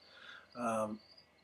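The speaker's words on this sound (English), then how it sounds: "It's quiet except for the crickets and the odd kid who screams in the neighborhood." Crickets chirping outdoors on a quiet evening in a neighborhood, a faint thin trill running under a brief murmur of a voice, distant and soft.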